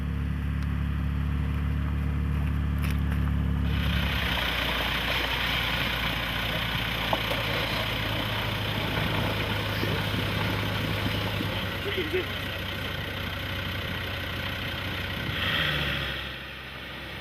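A vintage Bentley with an open flywheel idles close by during the Peking to Paris rally, its low steady rumble continuing throughout with a shift in tone partway.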